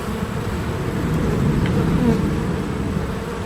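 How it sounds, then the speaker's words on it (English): Honeybees in a robbing frenzy while a hive is being removed, a dense, steady buzzing swarm close around with no pauses, under faint low background rumble. "Got a robbing frenzy going on."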